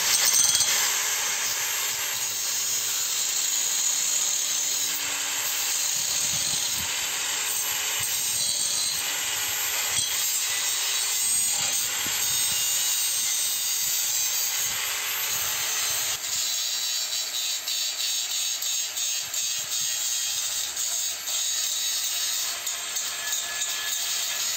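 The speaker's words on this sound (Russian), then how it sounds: "Теперь все вот эти неровности нужно заточить болгаркой." An angle grinder smoothing welded joints on a metal railing gives a continuous harsh, gritty grind, near and steady for the whole stretch with small shifts in pressure and no voices.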